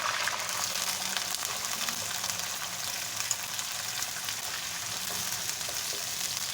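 Cumin seeds sizzle in hot oil in a pan just as onions are added, giving a steady, fairly quiet crackling hiss that runs evenly throughout.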